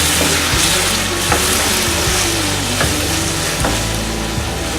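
Yogurt is stirred into frying masala for an egg biryani, with loud, steady frying noise and periodic stirring knocks against the pan, under a constant low background hum, with no speech.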